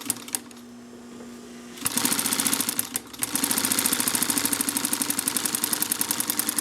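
A Singer 44-9 walking foot sewing machine with a clutch motor hums at idle, then runs in a fast, steady rhythmic chatter, with a brief pause before sewing resumes loudly and evenly, close up.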